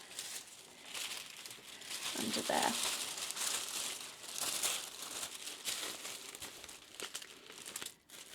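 A sheet of white paper handled and folded by hand, producing close crinkling and rustling bursts throughout, with a soft voice speaking briefly underneath.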